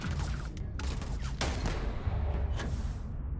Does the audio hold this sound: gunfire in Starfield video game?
yes